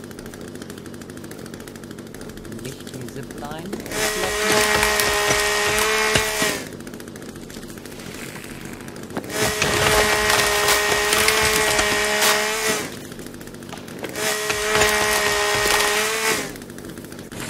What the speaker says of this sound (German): Schnell erledigt hier bei den dünnen Bäumen, ne? Und mit einer Kettensäge.